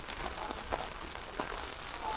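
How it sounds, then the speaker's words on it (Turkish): Heavy rain falls during a storm at a campsite, a steady, even patter drumming on a surface and filling the whole stretch at moderate volume. "Yağmurdan dolayı da çıkamıyorum dışarı."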